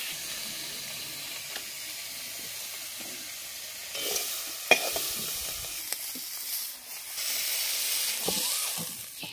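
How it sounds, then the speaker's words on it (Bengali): Vegetables, including beans and eggplant, sizzle and hiss steadily in hot oil in a pan, with louder bursts of frying and occasional stirring clatter. "এক এক করে সবগুলো সবজি আমি ভাজা করে নেব"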